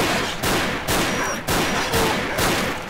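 Pistol gunshots in S.T.A.L.K.E.R., five loud, sharp shots fired at an even, deliberate pace, each with a short decaying tail, close and alone.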